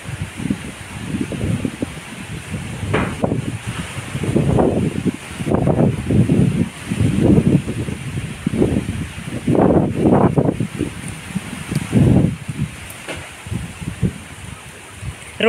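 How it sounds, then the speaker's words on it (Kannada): Strong gusty wind blowing outdoors, surging in repeated bursts of buffeting rush and microphone roar, loud and close, with no speech. "ಎಂತ ಗಾಳಿ!"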